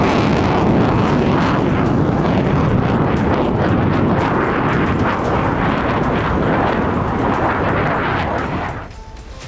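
People's Liberation Army military jet aircraft flying overhead, a loud, dense, sustained roar that holds steady for several seconds before dropping away sharply near the end, with no speech.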